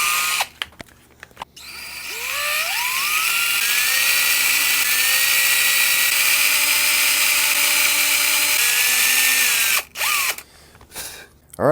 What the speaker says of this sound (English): So we're going to load this thing up in the drill